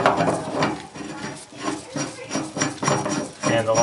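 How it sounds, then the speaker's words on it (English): A metal bathtub drain being screwed by hand into the drain shoe beneath the tub, giving a close, repeated scraping and grinding rasp in short rhythmic turns with no talk. "take the drain, make sure the shoe is lined up by trying to screw it in."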